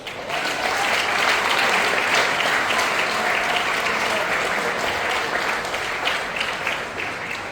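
Steady, full-room clapping from a commencement dinner audience cheering for Serbia, a dense wash of hands that holds evenly throughout without pause.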